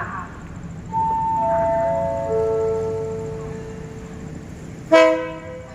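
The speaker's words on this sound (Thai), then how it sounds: "ขบวนรถเที่ยวนี้ก็ออกจากสถานีราชบุรีไปแล้ว" Ordinary train 262, running Hua Hin to Bangkok, departs Ratchaburi station. A sequence of sustained tones steps down in pitch, then a short, loud horn toot sounds near the end over the station background.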